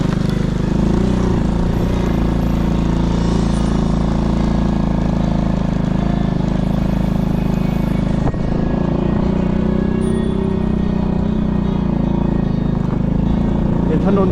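A motorcycle engine labours in low gear up a steep rural mountain road, a loud continuous drone with wind noise and little variation throughout.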